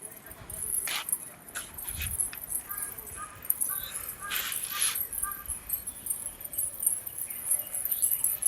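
A crow caws a few times near a group of domestic pigeons, moderately close, over a steady outdoor background, with human voices heard in the mix.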